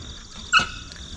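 A young beagle puppy lets out a single short, high whimper in the middle of steady outdoor background noise, fairly close and brief.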